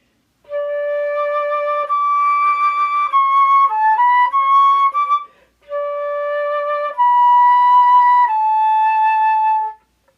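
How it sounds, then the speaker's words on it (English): A flute plays a short, simple melody of sustained notes in two phrases, with a brief pause between them, clear and close. "now I'm going to play a little bit of a song on the flute"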